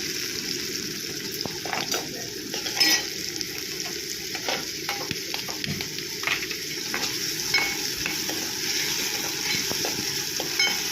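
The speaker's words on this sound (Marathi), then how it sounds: "टोमॅटो छान असा परतून घ्यायचा आपल्याला" Tomatoes sauté with lightly browned garlic and onion in a pan, a continuous close sizzle broken by frequent scraping stirs and occasional spoon knocks, with no voices.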